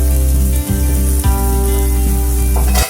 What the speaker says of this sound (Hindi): फिर से अच्छे से मसाले को फ्राई कर देंगे एक साथ